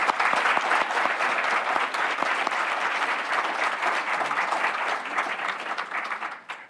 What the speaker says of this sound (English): Let's give all our elected officials a round of applause.